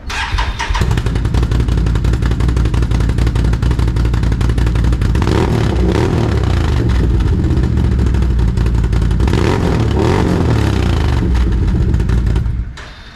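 Loud, close engine of a Can-Am off-road vehicle with a Performance Series exhaust, heard from about six feet, chugging steadily at idle and then revving up in a couple of strong bursts before settling back down.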